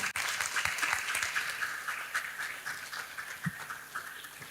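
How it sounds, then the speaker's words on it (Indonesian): A talk-show audience at a Muslim women's event applauds steadily, a dense wash of clapping that stays fairly even and close throughout, with no voices on top. "Tepuk tangan dulu teman-teman"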